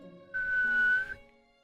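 A single steady whistled note, held for under a second, close and clear against a quiet background.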